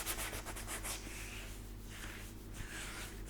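Sandpaper rubs in continuous strokes over primer on a car body while pinholes are feathered out. The rasping is close and steady, with a swishing rhythm and no talking.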